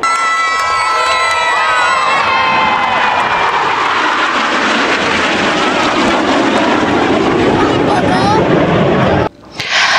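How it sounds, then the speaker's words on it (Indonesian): A crowd of kindergarten children and students at an air show at an Indonesian air force base cheers and shouts loudly and steadily. A jet aircraft engine roars along with the crowd, and the noise cuts out briefly near the end. "Sorakan kegembiraan yang berasal dari para penonton didominasi anak-anak TK dan pelajar membuat suasana menjadi meriah"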